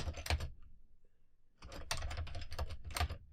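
Bursts of keystrokes on a computer keyboard, a short flurry, a pause of about a second, then a longer run of rapid, close clicking, with no voices.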